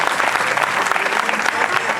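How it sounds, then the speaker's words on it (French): An audience at a Congolese stand-up comedy show by the Congo River applauds a comedian, a dense, steady wash of clapping lasting the full two seconds with no pauses. "est-ce que là, on peut applaudir pour un frère congolais qui est venu travailler?"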